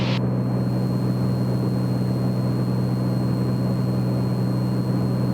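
A Piper Comanche 250 in cruise flight at high power, its engine droning as a steady, loud, low hum with constant tonal bands, heard from inside the cabin without talk.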